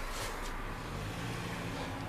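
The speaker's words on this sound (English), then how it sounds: "What I'm glad to see is the engine sounds good." A 1968 Plymouth Fury convertible's engine idles steadily after a cold start, a continuous low rumble with broadband hiss, close and fairly even throughout, with no talking.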